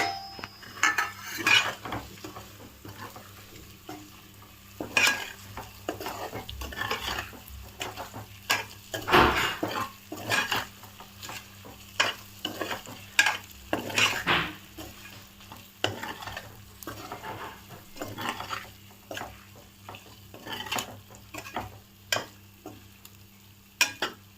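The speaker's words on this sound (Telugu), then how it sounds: "ఇందులోకి ఎగ్స్ వేసుకొని ఫ్రై చేసుకుందామండి." Eggs fry in a pot for egg biryani, with steady sizzling under repeated scraping stirs and clinks of a utensil against the metal, loud and close with no voices.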